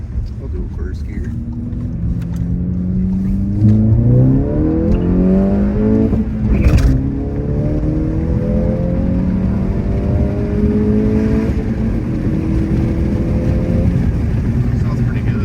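An MK7 Volkswagen GTI with a Borla S-Type cat-back sport exhaust pulls hard through first gear, its engine note climbing steadily in pitch with a sharp shift crack midway, loud and close, with a voice heard over it.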